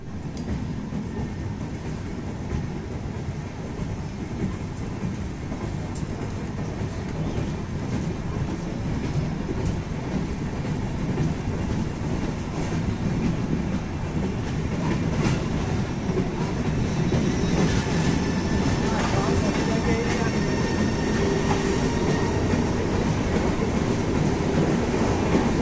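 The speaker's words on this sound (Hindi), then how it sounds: "India's most powerful वैक 12 locomotive, great acceleration." Sharbat Da Bhala Express passenger train hauled by a WAG-12 electric locomotive, heard from on board as a loud continuous rumble with clickety-clack of wheels on rail joints, building as it accelerates.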